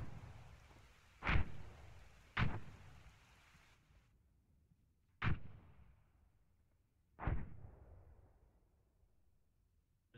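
Distant artillery fire in the video game Arma 3: four separate booming impacts, each with a sharp onset and a long fading rumble, spaced a second to three seconds apart against a quiet backdrop with no talk.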